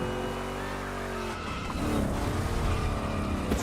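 Two Chevrolet big block cars racing in The Crew Motorfest, with loud continuous engine roar, tire squeal and skidding close up, the engine pitch shifting midway.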